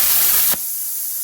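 Compressed air hisses from the nozzle of an Arccaptain Cut 55 plasma cutter as post-flow cooling after the trigger is released: a loud, close rush of air that drops abruptly to a fainter steady hiss.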